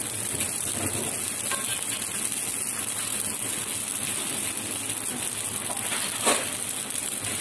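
Steady dry crackling and faint hiss of cumin seeds roasting in a hot pan, continuous and even throughout, with no voices.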